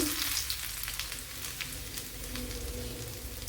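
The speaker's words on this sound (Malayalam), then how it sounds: "ഇതിലേക്ക് കടുക് ഇട്ട് കൊടുക്കുക" Mustard seeds sizzle and crackle in hot oil in a Kerala-style kitchen while carrot pachadi is cooked, a steady close frying hiss with scattered sharp pops and no talking.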